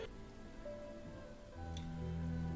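Steady rain and muddy ground in a tabletop role-playing scene, a continuous broadband patter under a low tonal music bed that swells louder halfway through, with no talking.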